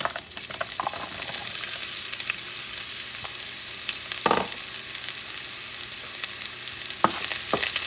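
Onions frying in oil in a hot pan, cooked a couple of notches above medium for shrimp pancit bihon, give a steady close sizzle with occasional stirring clicks and pops.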